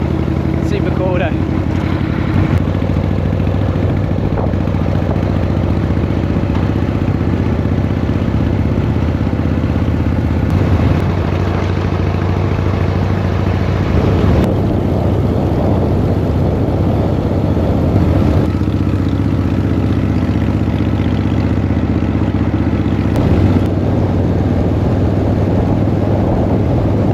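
A 1979 Harley-Davidson Shovelhead motorcycle being ridden through open country, its engine droning loud and steady with heavy wind rush throughout, while a rider talks over the noise.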